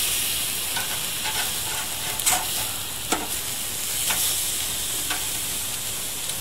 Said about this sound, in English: these are ready to flip. We'll get underneath those guys and flip them right over.